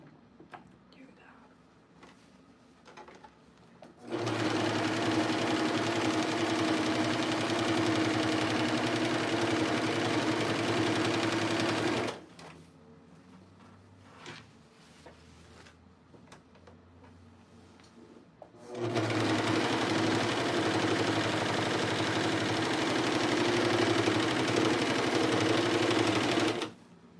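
Sewing machine stitching fabric for pants, running in two long steady mechanical bursts of several seconds each, separated by a quiet stretch with faint handling noises.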